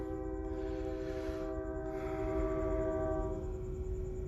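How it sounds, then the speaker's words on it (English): A train's steady horn or whistle tone sounds clearly over a low rumble of rolling rail cars, fairly faint and distant, holding through the whole stretch with a slight swell near the end. "Train is troublesome."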